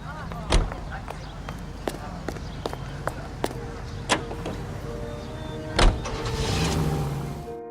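A car in the video game L.A. Noire, with door thumps and clicks, then the engine turning over and building into a low driving rumble, all fairly close.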